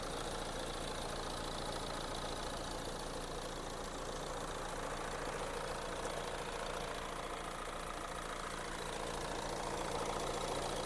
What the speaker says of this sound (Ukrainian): Двигунчик працює все гарно.